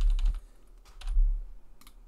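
Computer keyboard typing while naming a node in Unreal Engine 5, a short burst of quick keystrokes, then a pause and a second cluster of taps, close and fairly quiet with no talking.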